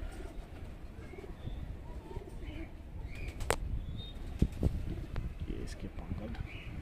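High flyer pigeons coo softly amid steady background noise, with a few brief fluttering sounds and faint voices nearby.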